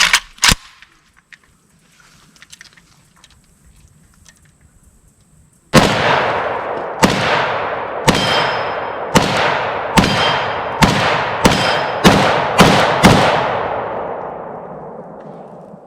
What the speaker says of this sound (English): heard the steel plate ting a few times, so I think it went straight through